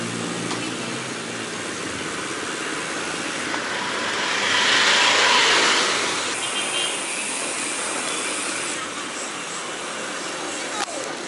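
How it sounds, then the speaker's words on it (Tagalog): Road traffic in Morong, Rizal drones at a moderate distance as a steady broadband wash, with a vehicle swelling louder and passing around the middle before the noise settles back. "Traffic ng Morong."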